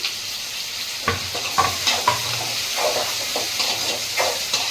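Food sizzles and sautés steadily in a hot pan with a dense, close hiss, broken by occasional scraping stirs and clatter, with no talking.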